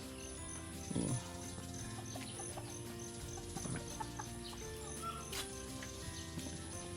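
Bantam chickens on a farm cluck in short, scattered bursts against a steady outdoor bed of farmyard noise, with one louder burst near the start and softer calls after it, fairly close, and no voices.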